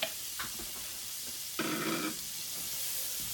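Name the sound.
shallots and green onions sizzling in hot oil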